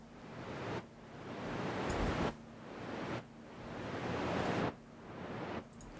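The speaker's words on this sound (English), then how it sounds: "I generated some white noise with a signal generator on Pro Tools." White noise from a Pro Tools signal generator, sidechain-compressed so it repeatedly ducks sharply and swells back up in a steady pumping rhythm, faint and alone.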